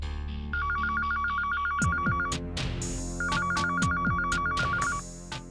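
A telephone rings with an electronic warbling tone in two long bursts, loud and close, over dramatic background music in a TV serial scene.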